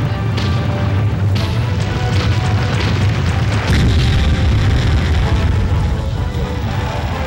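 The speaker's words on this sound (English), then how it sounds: "you can shoot into the castle and then you see this great show of the castle physically blowing apart on the" On a Medieval Madness pinball machine, the castle-blowing-apart effect plays as a loud, dense booming crash, a sustained barrage of explosive rumbles and smashing noise that roars on without pause.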